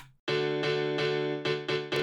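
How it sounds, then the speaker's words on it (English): An FL Keys piano plays repeated chord stabs after a short low note, each strike ringing with a bright, full tone, close and clear. "which is just a Dane's piano from FL Keys"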